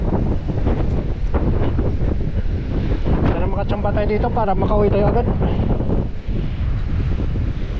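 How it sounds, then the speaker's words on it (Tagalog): Strong wind roars and buffets the microphone throughout, with someone talking over the gusty rumble. "Sobrang lakas ng hangin."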